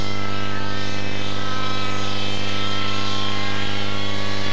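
Constant, loud droning engine and rotor hum of a helicopter performing aerobatic maneuvers at an air show, unchanging and continuous with no voices.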